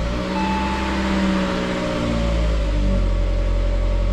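A 200,000-mile Saab 9-5 Aero fresh from crank seal and belt replacement idles steadily after starting, a close, even engine hum with no one talking.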